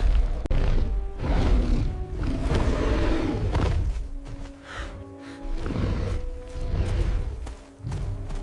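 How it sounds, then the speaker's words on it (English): A prehistoric titan beast roars in a canyon with deep, rumbling, drawn-out bellows that rise and fall in several long waves, booming and reverberant as the echoes overlap from all sides. "Every sound in the canyon multiplied itself, and the Titan's roar came from everywhere at once."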